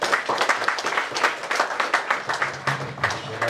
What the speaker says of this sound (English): Manan, you need a good round of applause.